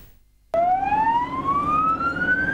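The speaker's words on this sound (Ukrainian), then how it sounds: "Службові автомобілі їздили вулицями Ужгорода з увімкненими сиренами" Emergency vehicle siren on city streets in Uzhhorod, starting abruptly and sweeping upward in a long rising wail, loud and close over engine rumble.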